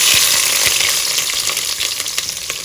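Onion sizzles in hot oil with bay leaf, cinnamon, cloves and cardamom, a loud, steady crackling hiss up close, broken by light scraping taps from stirring.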